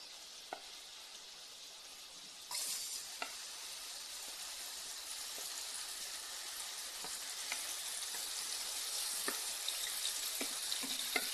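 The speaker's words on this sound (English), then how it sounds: "I'm just spreading them out right now to ensure that they are submerged in the oil and given an equal opportunity to change color" Chicken liver and gizzards frying in oil, a steady loud sizzle that jumps up as pieces go in, with occasional stirring clicks and pops throughout, no voices.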